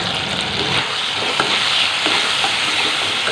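Spices get stirred in a hot cooking pan while making a soybean curry, a loud close sizzle with scraping stir strokes and spatula clicks over the frying hiss, no voices.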